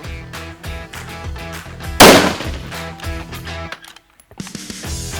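A rifle fires one sharp report at a long range precision shooting match, the crack loud and close with a fading echo. A quieter pause follows before more background activity.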